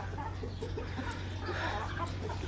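Chickens cluck softly while pecking at grain, faint scattered calls over a steady low hum.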